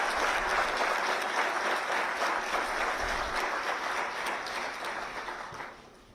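Attendees at a BrahMos user meet applaud the chief guest after a memento presentation. A dense, even wash of clapping from a large hall sounds somewhat distant, then tapers and fades over the last second.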